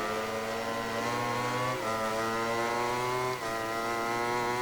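A Ducati motorcycle engine whines steadily at high revs behind the rider in MotoGP 19, a continuous buzzing drone with slight pitch shifts as the bike runs close.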